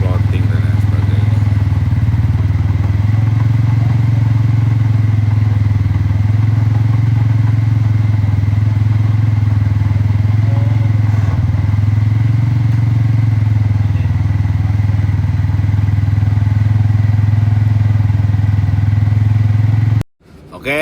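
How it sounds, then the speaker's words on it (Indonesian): A restored and modified older Yamaha Vixion motorcycle engine idles steadily, its low, even hum running loud and close throughout before cutting off abruptly at the end. "setelah engine sudah hidup dan sudah kita infoin, sudah kita hidupin"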